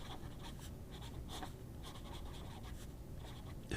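A wet, springy medium-nib fountain pen writing on paper, soft scratchy strokes in quick irregular bursts, very quiet and close with no talk.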